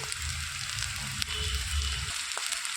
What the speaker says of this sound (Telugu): కట్ చేసి పెట్టుకున్న ఆనియన్స్ కూడా వేసేసుకోవాలి వేయించుకోవాలండి